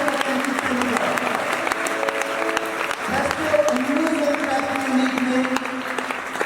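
Loud applause from a school audience at a ceremony honouring selected students, steady clapping throughout with a voice talking over it.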